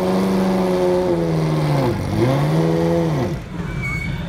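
A Ferrari 250 LM Le Mans race car engine revs hard, its pitch sweeping down and climbing again through repeated throttle blips, loud and close, then dropping away to a lower idle near the end.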